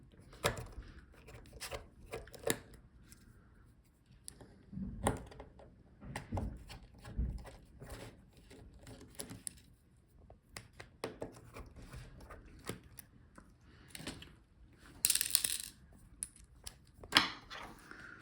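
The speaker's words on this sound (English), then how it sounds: "Yes, so take out the screws surrounding the touchpad." Small screws are taken out around the touchpad of an Asus Zenbook Q415MA laptop during a teardown, giving faint, scattered clicks, scrapes and taps of a screwdriver and hands at close range, with no talking.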